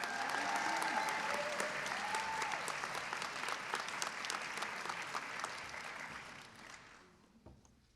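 A spring awards convocation audience claps warmly for outstanding students, a full round of applause that gradually thins and fades out near the end.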